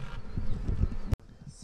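Bees being caught by hand outdoors buzz in a dense, agitated drone, close and loud, with a sharp knock partway through before the buzzing continues more quietly.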